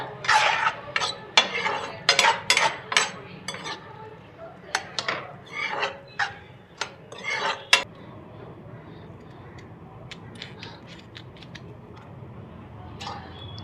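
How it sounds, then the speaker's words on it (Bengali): Potato and soybean curry being reheated in a wok, with a spoon or spatula clinking and scraping against the metal in quick irregular bursts for several seconds, then fading to a quieter background hum. "এদিকে কড়াইয়ের তরকারিটা গরম বসাইছি আলু সয়াবিনের তরকারিটা"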